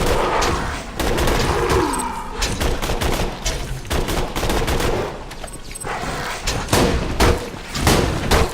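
Rapid gunfire bursts from a Jacobs rifle in Borderlands 2, loud, repeated volleys of sharp cracks filling the scene amid dense battle noise and explosions.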